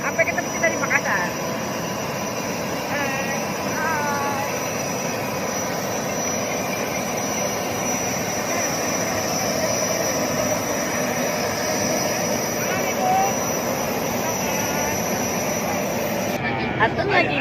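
Steady broadband roar of a private jet's engines, a constant loud whine and rumble filling the whole stretch with little change, likely heard from inside or beside the aircraft, with no voices over it.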